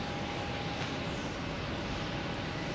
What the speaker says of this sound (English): Next line up is United Airlines heading to Houston.